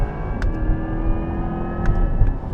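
A 2024 Corvette E-Ray hybrid on Michelin all-season tyres accelerating, heard from inside as a steady rising drive whir with low road rumble and a couple of brief clicks, loud and continuous, without speech.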